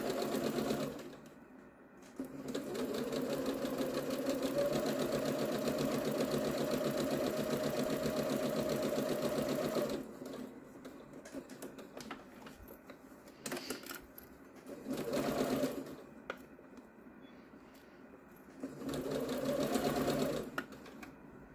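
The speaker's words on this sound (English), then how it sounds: "we're going to sew around 1/4 inch seam allowance, back tacking" Sewing machine stitching a quarter-inch seam with back tacking on a fabric pouch, a steady fast whirring hum in several long runs separated by short pauses, fairly quiet and close.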